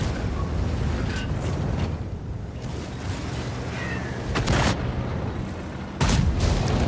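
Loud booming tank cannon shots in World of Tanks, two heavy blasts a couple of seconds apart, over a constant rumbling engine-like background.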